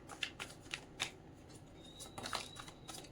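Tarot cards shuffled by hand, a series of crisp flicking and riffling bursts in an uneven rhythm, close and soft in a quiet room.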